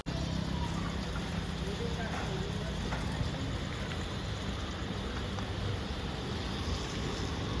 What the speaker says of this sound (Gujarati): બહુ વરસાદ ચાલુ થઈ ગયો છે